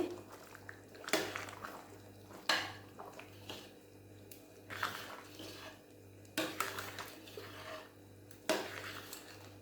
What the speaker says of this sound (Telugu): రైస్ వేసుకున్న తర్వాత ఒకసారి బాగా కలుపుకోవాలండి.